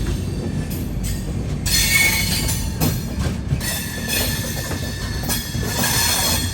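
The Swarnajayanthi Superfast Express runs on rails with a loud, close, steady roar of wheels and carriages, rhythmic clatter and high squealing bursts throughout, no voices.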